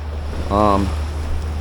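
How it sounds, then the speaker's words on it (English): Rough sea surf on a Jamaican shore in bad weather, a steady broadband wash of waves and wind noise with a brief tonal voice-like sound in the middle. "Yeah, this water's kind of a bit rough this morning."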